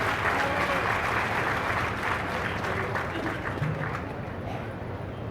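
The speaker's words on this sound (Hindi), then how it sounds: "मैं सदन की जोरदार तालियों से आपका अभिनंदन करता हूँ" Sustained applause from a large audience in a hall at a commemorative event, a dense, even wash of clapping that holds steady throughout and eases slightly toward the end.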